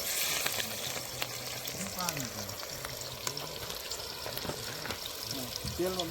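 Chopped onions frying in hot oil for a rustic Kathiyawadi whole-onion curry cooked outdoors on a farm: a steady, close sizzle with occasional stirring scrapes, while voices talk faintly underneath.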